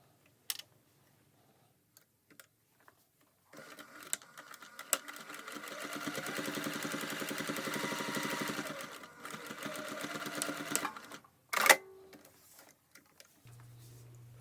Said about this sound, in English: Top stitch the trim 1/8 inch from the lower edge only.